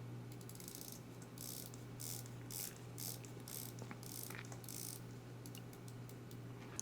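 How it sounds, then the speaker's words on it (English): The ceramic bezel on a Grand Seiko Evolution 9 SLGA023 Spring Drive watch turns in short bursts of fine, precise ratcheting clicks, several quick runs in a row, very close and quiet against low background hum. "Let's listen to the bezel action."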